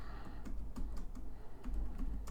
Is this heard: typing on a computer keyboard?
yes